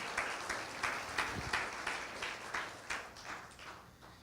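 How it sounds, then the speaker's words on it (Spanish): A church congregation applauds steadily, claps blending into a continuous patter with soft rhythmic swells, heard without talking. "Denle un aplauso a Cristo en esta mañana"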